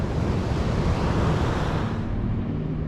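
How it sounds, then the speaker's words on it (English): Big ocean waves break and wash steadily onto a beach at Hutchinson Island, Florida, a loud continuous roar of surf with wind across the microphone, no voices. "Some big waves."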